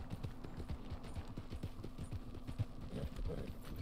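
A horse gallops in the video game Red Dead Online, quick muffled hoofbeats running continuously under a low game background, moderately close but fairly quiet.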